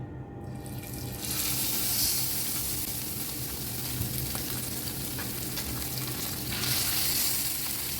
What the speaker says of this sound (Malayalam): നമ്മുടെ ചട്ടി ചൂടായുണ്ട് അപ്പോൾ നമുക്കിങ്ങനെ മീൻ ഇട്ടു കൊടുക്കാം